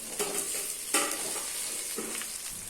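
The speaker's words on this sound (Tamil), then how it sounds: "இது எல்லாத்தையும் நல்லா வதக்கி எடுத்துக்கலாம்" Mashed potato and soaked, boiled green peas being sautéed in a pan for samosa filling, with soft sizzling and several brief scraping stirs of a spoon against the pan.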